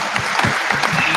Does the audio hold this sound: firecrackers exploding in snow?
no